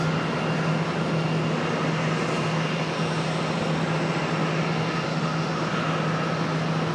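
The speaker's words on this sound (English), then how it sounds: "So this 737 coming right across" A Boeing 737 airliner passes at Charlotte airport, a steady, loud broadband jet roar with a low droning hum that holds evenly for the whole stretch.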